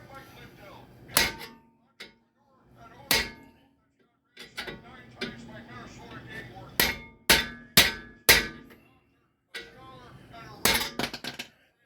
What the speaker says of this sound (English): I've got a 4-pound hammer, which is heavy, and a big pry bar.